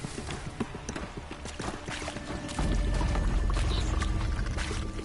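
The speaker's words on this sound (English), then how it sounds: "Even though the water is quite loud" Loud rushing water in Horizon Zero Dawn, a steady wash that swells sharply halfway through and then holds as a dense roar, with faint game sounds scattered over it.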